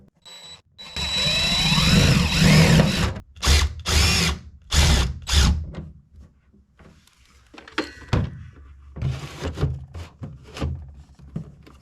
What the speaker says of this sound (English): position the pump in place relative to the drain so we can mark the hanger location and install the screws